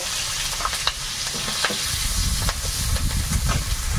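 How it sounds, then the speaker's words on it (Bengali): Whole cumin, green chillies and grated ginger sizzle hard in hot oil in a wok, a steady loud frying hiss with crackling pops throughout. "কড়াইতে একটু তেল দিয়েছি, এর মধ্যে একটু গোটা জিরে দেবো, কয়েকটা কাঁচা লঙ্কা আর একটু আদা গ্রেট"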